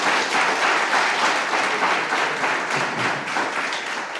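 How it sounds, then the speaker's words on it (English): Dense, steady applause from a large audience at a Northside Grizzlies awards event, a continuous loud wash of many hands clapping with no talk over it. "Give me a round of applause."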